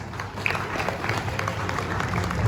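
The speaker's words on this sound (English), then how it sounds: "Give them a big round of applause." An audience at an international medical conference applauds, a moderate crowd clapping in a blurred, steady patter with some murmur and low rumble of the hall beneath it.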